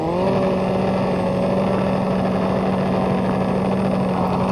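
Car engine with turbo in the No Limit 2.0 racing game after a motor refresh, a loud steady drone holding constant pitch with no break.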